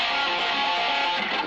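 Unmuted electric guitar strings left ringing without palm muting, a dense sustained wash of overtones held at steady loudness throughout the short clip, with no talking.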